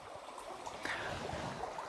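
Small stream flowing through a landscape, a soft continuous trickle and gurgle of water, faint and close, with no voices.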